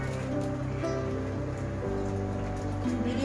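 Milk poured into deer meat frying in a pan for biryani, giving a steady, close crackling sizzle with no voices.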